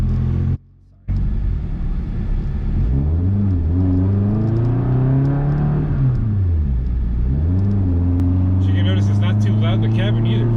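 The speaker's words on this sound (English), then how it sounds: "So the exhaust is a straight 3-inch all the way back" A loud 2006 Subaru WRX engine rumbles and revs with a raw, unmuffled straight-pipe 3-inch exhaust note, pitch rising and falling as the throttle changes, after a brief cut near the start.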